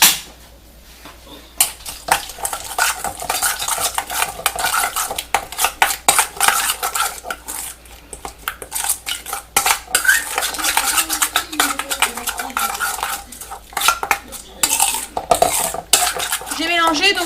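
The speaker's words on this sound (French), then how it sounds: "Hop, on va saler. Poivrer. Et on va mélanger ça." Spoon scraping and clinking against a pot while stirring a creamy chard risotto seasoned with salt and pepper, a steady run of close metallic scrapes and taps with a faint sizzle underneath.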